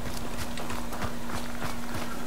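Hoofbeats of a horse in the video game Hunt: Showdown, a steady run of soft clip-clop thuds close by under a constant low tone and game ambience.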